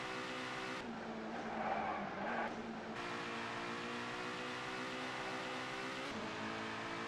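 Lister Storm race car on a track in ToCA 2: Touring Cars, its engine a steady high drone with pitch shifts as it brakes and accelerates, and a short burst of tyre skid near the start.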